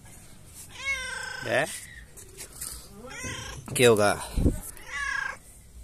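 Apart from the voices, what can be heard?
cat meowing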